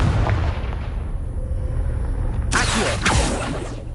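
A Confringo fire spell from the Hogwarts Legacy video game goes off as a booming explosion, first a deep rumble, then a second sharp blast near the end, loud and with no talking.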